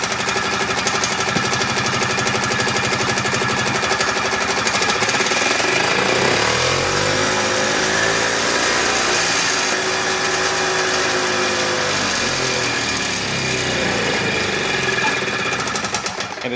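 A 1971 Harley-Davidson golf cart engine runs loud and rough with a steady mechanical chatter, its pitch sagging and wavering midway as it struggles and threatens to cut out.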